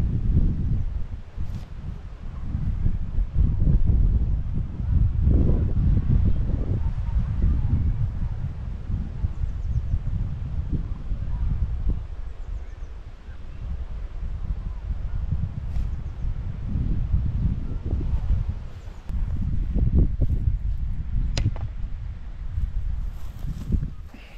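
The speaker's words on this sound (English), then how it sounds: "there is so much wind" Strong wind buffets the microphone outdoors on a Baltic Sea disc golf course in Kellenhusen, with a steady low roar and gusts, and occasional rustling throughout; no talking.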